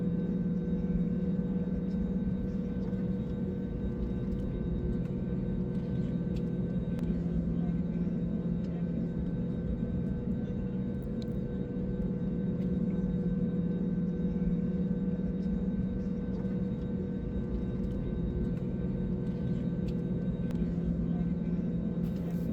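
A steady, even drone of airliner engines fills the cabin on a flight from Uttarakhand to Kolkata. It is a constant low hum with no breaks, heard close from inside the aircraft.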